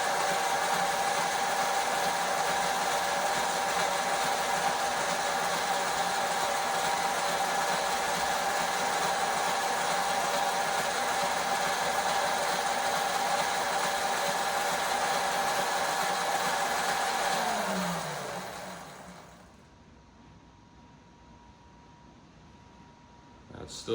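A Talaria X3 electric dirt bike motor spins steadily with a sustained whine and hum during controller calibration. It runs loud and constant, then winds down and cuts out near the end, leaving near silence.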